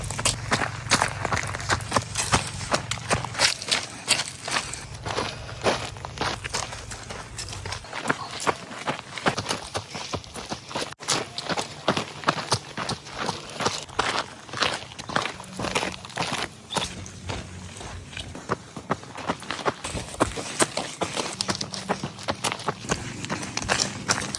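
A person running with steady, rapid footfalls that pound continuously and close, fairly loud throughout, with light wind-like noise in the background and no talking.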